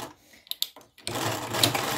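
A sewing machine running a straight stitch on a child's bra cup after a few light clicks and taps, the steady whirring motor starting partway through and continuing close up.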